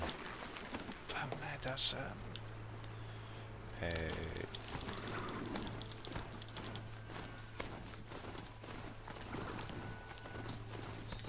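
Hoofbeats of a mechanical Strider horse in Horizon Zero Dawn on PS4 clip-clop in a steady rhythm under a talking player, with game mechanisms and ambience around them.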